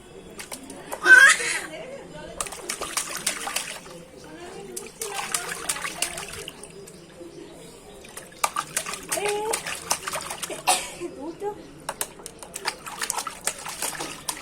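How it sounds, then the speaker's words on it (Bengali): Water runs and splashes during a young child's bath at home, coming in intermittent bursts of trickling and splashing under frequent child and adult chatter and laughter. "জল থামা দাও হ্যাঁ থামা দাও জল থামা দাও"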